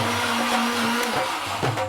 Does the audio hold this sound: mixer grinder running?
yes